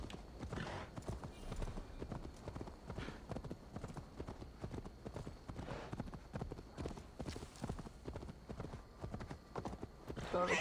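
Horse hooves clip-clopping in the Assassin's Creed Valhalla video game, a steady galloping rhythm of thuds running throughout at moderate loudness, with faint speech at times.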